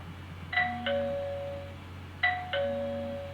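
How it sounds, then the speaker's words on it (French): A home doorbell rings twice in close succession, each ring a clear two-tone ding-dong chime that fades out, heard alone with no talking over a low steady hum. "c'est ma sonnette qui sonne"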